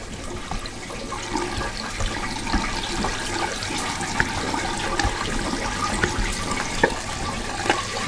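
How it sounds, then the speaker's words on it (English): Water tumbles steadily through a mesh bag of plastic K1 filter media inside a homemade hydroponic vertical growing tower pipe, a continuous splashing trickle with small bubbling pops, heard close and alone. "So the water just tumbles through there."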